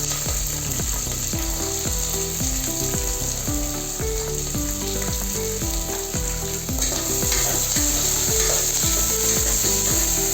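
Large onions with green chilies and cardamom sizzle steadily in a frying pan for coconut milk pulao, with a repeated rhythmic scraping of stirring running through the close, continuous frying.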